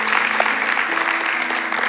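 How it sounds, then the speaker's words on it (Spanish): A church congregation gives a short burst of applause, a dense patter of many hands clapping at steady strength throughout, with faint sustained tones beneath. "Denle un fuerte aplauso a Jesús por su misericordia y por su favor."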